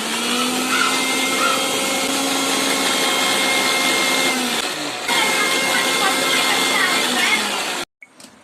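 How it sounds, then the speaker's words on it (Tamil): A kitchen mixer grinder whirs loudly and steadily as oil is blended into homemade mayonnaise, then cuts off abruptly near the end. "கொஞ்சம் கொஞ்சமாக எண்ணெயை ஆட் பண்ணி அரைக்கணும்"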